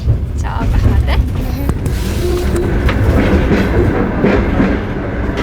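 A passenger train on the Bishkek–Balykchy railway runs with a steady rumble and rhythmic wheel clatter heard from inside the carriage, and faint voices mix in.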